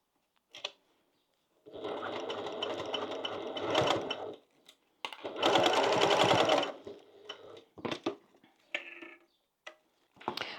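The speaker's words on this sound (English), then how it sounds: "I started sewing in the middle" A sewing machine stitches a zippered pouch with hardware, starting the seam mid-way along a bulky hump; bursts of rapid mechanical whirring run a few seconds each, separated by pauses and small clicks, close and clear with no talk.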